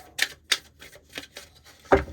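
Tarot cards being shuffled in a Libra reading, giving a few quick crisp riffling bursts close by, then a fuller thump near the end as the deck settles, with no talking.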